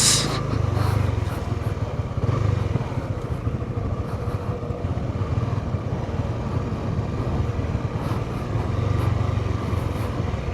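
Honda CB150X motorcycle riding in Leyte, a continuous engine drone with strong wind rush mixed in, steady and fairly loud with slight pulses in the low rumble, no talking.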